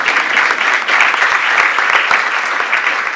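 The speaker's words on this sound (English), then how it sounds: "why are you clapping so reluctantly?" A live audience at a launch event claps steadily and somewhat half-heartedly, a dense, even wash of applause filling the room with no voices over it.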